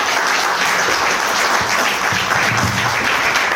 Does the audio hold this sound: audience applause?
yes